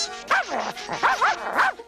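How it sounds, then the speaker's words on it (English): A puppy yips and barks several times in quick succession, high-pitched and close, in an animated cartoon scene. "Whoa, Puppy!"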